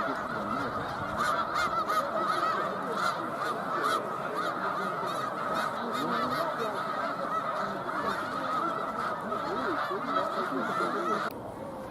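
A large flock of snow geese over a lake, dense overlapping honks from many birds forming a continuous, loud clamor that persists throughout.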